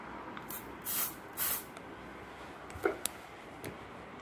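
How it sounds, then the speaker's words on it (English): Short hissing bursts of aerosol smoke detector test spray, two longer puffs then a few quick spritzes, fairly faint against a quiet room. "As long as you spray it directly into the head,"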